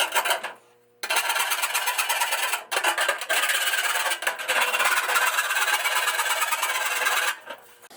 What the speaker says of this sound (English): Now I'm going to smooth out the hole, just using a chainsaw file